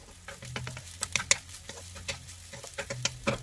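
Egg and rice being stirred in a frying pan, with a soft steady sizzle and light scraping and tapping of the utensil, close and fairly quiet.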